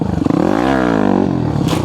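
A motorcycle engine at close range revving up as the throttle is opened, pitch rising sharply then holding and wavering, loud and alone.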